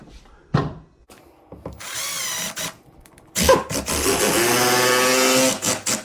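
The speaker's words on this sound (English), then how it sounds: "So now I'm gonna go ahead and put some trim screws in on this side." A power drill drives trim screws into the jamb of a flat-jamb door, with two close, sustained whirring runs, the second longer and rising in strain, set between short knocks and handling clatter.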